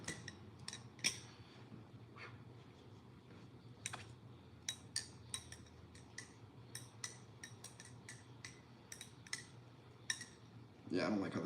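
A lubed balisong knife is flipped, giving a run of sharp, close metallic clicks and taps at an uneven rhythm, separated by brief pauses, over low room noise, with a short burst of other noise at the end.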